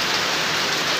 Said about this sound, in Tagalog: suddenly biglang lumakas ang ulan